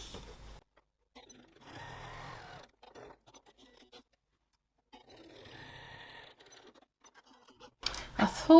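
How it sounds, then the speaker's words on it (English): A sewing machine top stitches across the tops of two bag pockets, running in two short bursts of soft mechanical whirring separated by near-silent pauses, ending with louder handling noise. "So let's top stitch the top of those 2 pockets."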